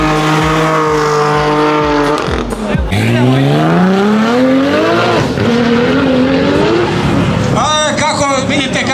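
A 600-plus horsepower four-wheel-drive drift car at a tuning meet pulls away hard, its engine climbing through rising revs with loud, close roar and gear changes, ending in a burst of high revving and faint tire noise.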